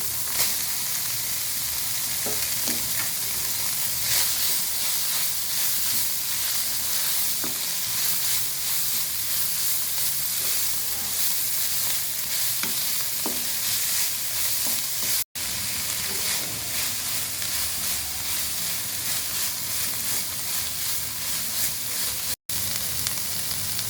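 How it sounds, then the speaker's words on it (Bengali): Chopped onion and chicken mince fry in a pan with a steady, close crackling sizzle, broken by occasional stirring scrapes. No one speaks. "এখন এখানে পেঁয়াজ কুচি দিয়ে দিচ্ছি"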